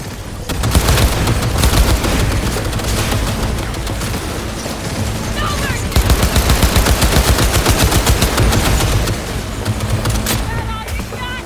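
Rapid automatic gunfire in the video game Cyberpunk 2077, dense bursts of shots running almost continuously and loud, with brief lulls and faint talk mixed in.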